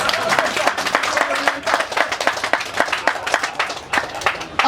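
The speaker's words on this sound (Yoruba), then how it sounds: "ẹ bá ń pàtẹ́wọ́ fún wọn." An audience at a 2019 Castrol reactivation event applauds: steady, dense clapping from many hands fills the space, with some voices underneath.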